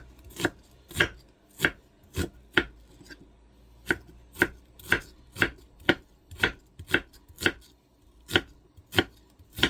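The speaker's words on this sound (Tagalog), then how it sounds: "Slice natin na itong sibuyas." A knife slicing an onion on a cutting board, giving a brisk, even series of crisp chops, close and clear, around eighteen strokes in under ten seconds with no talking.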